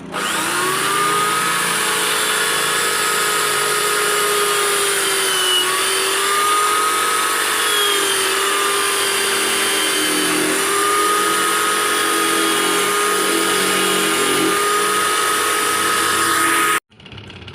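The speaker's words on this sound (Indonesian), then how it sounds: "langsung saja kita bor di sini" A power drill whines steadily and loudly at close range, boring into a hard coconut shell, its pitch wavering slightly before cutting off abruptly.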